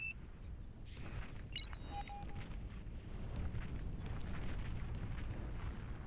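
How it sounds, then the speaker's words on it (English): A windmill unit blows up in a large 8v8 Beyond All Reason battle, a brief bright burst with crackling debris over a continuous roaring din of game combat that stays loud throughout. "from the explosion of the windmill"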